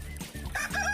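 Captive female quail in a farm pen give short clucking, crowing-like calls, close and fairly soft, in a quick burst lasting about a second.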